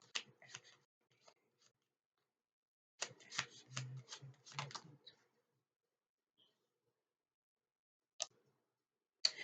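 Playing cards being shuffled in short riffling bursts, with quiet pauses between, close up and crisp, plus a few light clicks.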